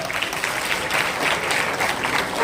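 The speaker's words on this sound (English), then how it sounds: "Give a big applause" Workshop audience in a commerce and accountancy class breaks into steady, dense applause, many hands clapping close and loud without pause for the whole stretch, with no voices standing out.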